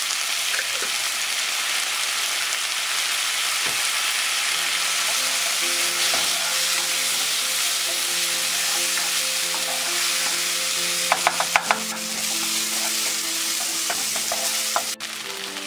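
Masala for a paneer dish sizzles loudly in a hot pan as a little water is added, giving a steady, close frying hiss with occasional stirring scrapes and clinks and no talking.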